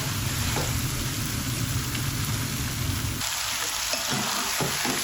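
Okra frying with gram flour in a pan over a high flame, a loud continuous sizzle up close, easing slightly partway through, with faint stirring scrapes toward the end.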